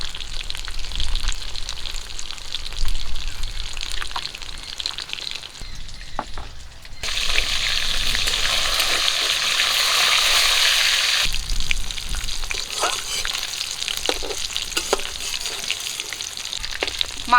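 Catla fish pieces frying in hot oil for a Bengali kaliya, a steady crackling sizzle that swells louder in the middle stretch, with occasional spatula clicks and no talk.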